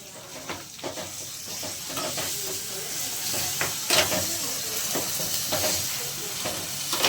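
Ground green chilli, garlic and ginger paste frying in oil for vada pav filling, a dense crackling sizzle that swells as the spoon scrapes and stirs repeatedly, close and fairly loud.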